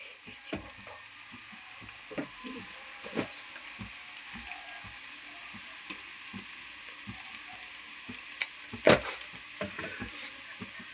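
Eggs frying in a pan with salt, chili powder and turmeric crackle in a constant sizzle, with frequent clicking taps and scrapes from a spatula as the mixture is stirred, close and unvoiced.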